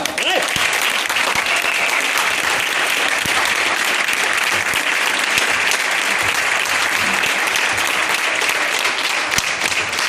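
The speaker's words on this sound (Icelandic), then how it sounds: "að gefa Einari sérstaklega gott klapp." A crowd at a sports club awards ceremony gives sustained, dense applause, steady and fairly loud for about ten seconds with a few voices underneath.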